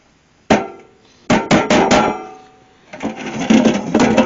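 A hammer punches holes in an empty tin can, giving sharp, loud, close metallic knocks: one single strike, then a quick run of four, then rougher scraping and tapping as the can is handled, with no talking.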